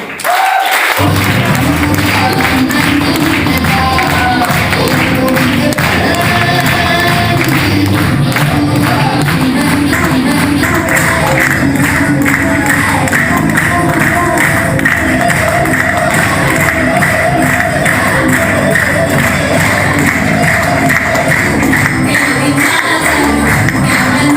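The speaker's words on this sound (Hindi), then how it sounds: "तो please come on the stage और एक और साथ तालियां इनके लिए" A large indoor audience at a recognition event applauds and cheers loudly and steadily as senior doctors are called onto the stage, with crowd noise and a voice over a sound system mixed in throughout.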